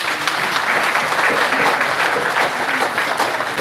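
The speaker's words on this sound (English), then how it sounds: "Please clap for them." Loud, steady applause from a crowd at a live political gathering, dense clapping sustained throughout.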